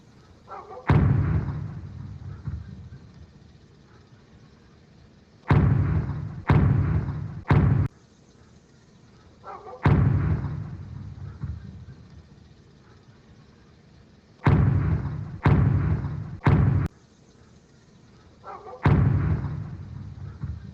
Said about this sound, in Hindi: गोलियों की आवाज आप सुन सकते हैं।